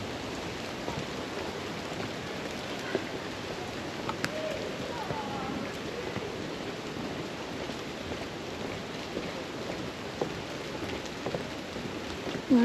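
Steady rain falls at Tahquamenon Falls State Park, a continuous dense hiss of drops on surfaces around the microphone, even and unbroken throughout.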